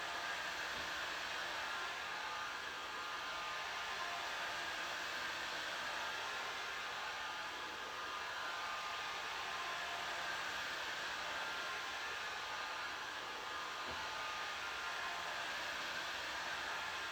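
A heat gun blows a steady, even whoosh while warming adhesive on a replacement carbon fiber roof on a 2016 Dodge Challenger or Charger, unbroken for the whole span with no talking.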